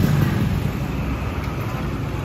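Yamaha RX King motorcycle fitted with a chrome standard racing exhaust, idling with a steady low, throbbing two-stroke rumble, close and constant for the whole stretch.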